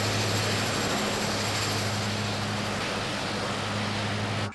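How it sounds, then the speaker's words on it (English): The twin turboprop engines of a Twin Otter in Microsoft Flight Simulator give a loud, steady roar after shutdown, easing off only slightly before cutting off abruptly at the end. There is no talking. "Wait for the engine to start slowing down, then prop levers can be pushed to the feather position."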